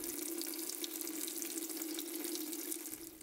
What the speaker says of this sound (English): It gets rid of all the water out of the water tank to get rid of mineral buildup after a freeze cycle.